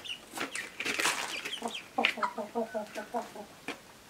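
Hens and ducks in a backyard flock give a run of close, rhythmic clucks and short calls, busy and overlapping at first, then settling into evenly spaced clucking.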